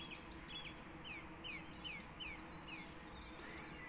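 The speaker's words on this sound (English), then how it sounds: "you might hear all the bird song." Faint birdsong outdoors by a river in the Norfolk Broads, a string of repeated chirping calls in a steady rhythm over a soft hiss of running water.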